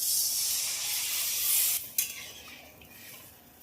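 Water poured into mustard and poppy seed masala frying in a pan, for a katla fish curry, sets off a loud hiss and sizzle that drops off sharply partway through, then settles into a softer simmer.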